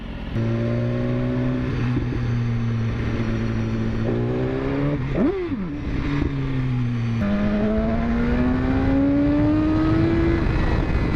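A 2015 BMW S1000RR motorcycle accelerating hard through the gears, loud close engine howl rising in pitch, a quick gear change midway, then climbing again as the front wheel lifts.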